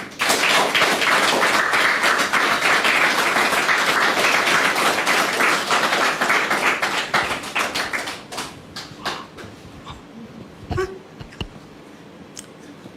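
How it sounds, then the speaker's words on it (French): A studio audience applauds loudly in a dense wash of clapping for about eight seconds before it thins into scattered claps and thumps. "Merci de la recevoir avec vos applaudissements"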